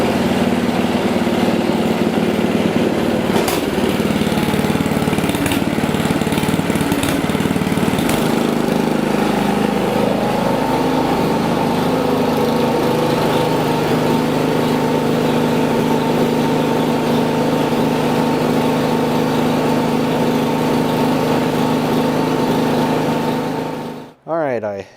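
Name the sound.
Ariens 24-inch Deluxe snowblower running with auger engaged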